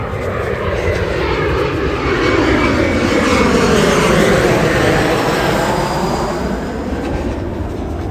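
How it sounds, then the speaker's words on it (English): Planes landing nearby on a stormy Sunday morning, heard as a steady, loud, broad roar that swells gently and holds for the whole stretch, with wind rushing through treetops and no voices. "There's a lot of planes landing all of a sudden."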